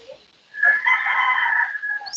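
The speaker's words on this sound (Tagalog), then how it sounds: "ang manok ang hintubag" A rooster crows once, a clear, drawn-out cock-a-doodle-doo heard close by with no talk over it.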